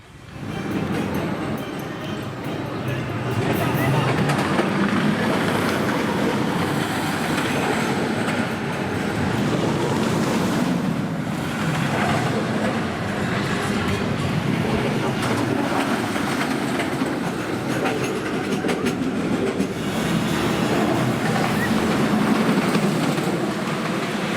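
Wildfire, a wooden roller coaster at Kolmården in Sweden, runs with a steady, loud rumbling roar of rattling wheels on track, continuous for over twenty seconds with no talk.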